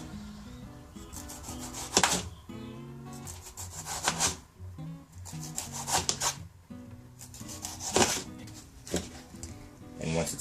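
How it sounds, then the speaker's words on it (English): A knife slices a ripe tomato about a quarter inch thick, making several soft, rasping cuts in an uneven rhythm, close and fairly quiet, with a person talking over the cutting. "Slice it about 1/4 of an inch thick,"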